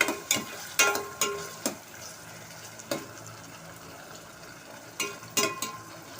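Ginger garlic paste frying in oil in a pan for a raw banana and prawn curry, close, with soft sizzling under a series of irregular scraping stirs and clacks.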